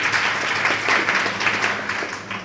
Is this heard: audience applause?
yes